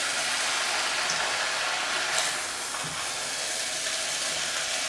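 Fried rice being stirred and mixed in a hot pan, a steady broadband sizzle-like hiss that runs the whole time with a few faint scraping knocks, no talking.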